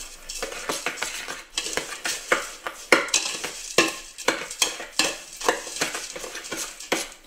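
A wet cure of lime and lemon zest and salt for cod gravlax is mixed in a bowl. Rhythmic gritty scraping strokes repeat steadily, close and clear, with no talking.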